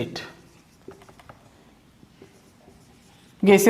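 A chemistry teacher writes on a board, producing soft, scattered scratching strokes in a quiet room, with the teacher's voice speaking at the start and again at the end.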